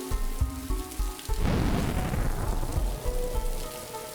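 After a brief burst of tonal music, a steady downpour of rain in the video game Bastard Bonds hisses loudly across everything, with heavy drops pattering continuously.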